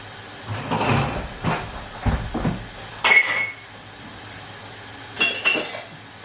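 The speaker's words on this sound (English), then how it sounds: "I'm going to get 1 wide mouth jar." Wide mouth glass canning jar handled on a counter, several separate bright clinks and knocks of glass in irregular bursts, close by, with quiet gaps between.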